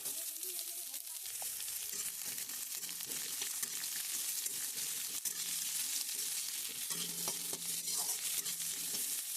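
Chopped onion, garlic and curry leaves fry on a chulha, a quiet continuous sizzle with occasional stirring scrapes and light clinks, close and unbroken by voices.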